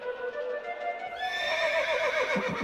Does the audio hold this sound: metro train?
no